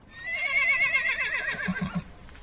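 Horses in a group by a dirt track off the Stuart Highway give one loud, close, wavering whinny that trails off, followed by a few soft low snorts.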